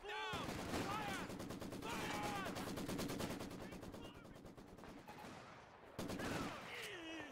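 Rapid machine-gun fire and scattered rifle shots from a Company of Heroes 2 multiplayer battle in Lienne Forest, sustained and rattling at moderate distance, with shouted soldier voices over the fire.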